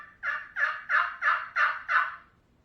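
A turkey call imitates a hen's yelp with six evenly spaced, raspy notes in a quick regular rhythm, close and clear, then falls silent.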